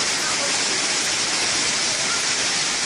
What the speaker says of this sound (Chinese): 乒乒乓乓的惊人的大雷雨不停猛砸，还夹杂一颗颗大小冰雹